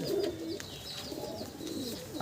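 A Madrasi pigeon coos softly and steadily over a couple of seconds, a low murmuring call close by, with faint higher chirps and background noise around it.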